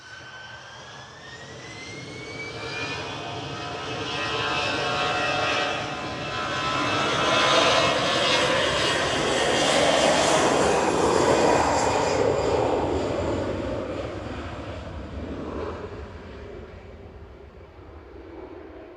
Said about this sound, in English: This is flight 3693 heading back to Madrid. A320 Classic, ECJFG